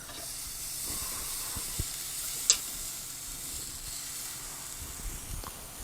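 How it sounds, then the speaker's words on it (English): Picanha searing fat side down in a smoking hot pan, a steady soft sizzle running throughout with a couple of brief clicks and knocks, nearby and moderately quiet. "I'm going to go fat side down. This is smoking hot."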